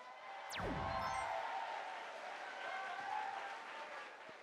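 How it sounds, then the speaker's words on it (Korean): Steady applause from a crowd at an awards ceremony for a regional high school competition, filling the whole stretch at an even level. "여러분의 힘찬 박수와 함께 지금 시작하겠습니다"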